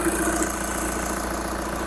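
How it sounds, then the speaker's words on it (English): A car engine idles steadily right after its EGR valve is reconnected during a mechanical health check, a close, loud, even low rumble with a regular pulsing beat and no voices. "Now hopefully you'll hear the engine note change and notice the change on the waveform."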